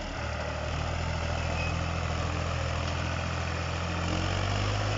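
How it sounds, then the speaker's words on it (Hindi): A Powertrac tractor pulls a harrow across a wet, muddy field, its heavy diesel engine droning steadily and loudly at close range with a slight rise near the end, no voices. "साथ साथ हैरो पर चल रहा है पावर टेक।"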